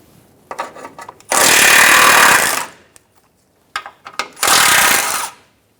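Power tool with a 15mm socket removing plate bolts on a 2014-2018 Chevrolet Silverado 1500, two loud buzzing bursts of about a second each, separated by short clicks and knocks.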